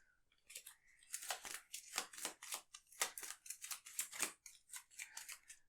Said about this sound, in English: We do shuffle all these up so we don't know which one's which.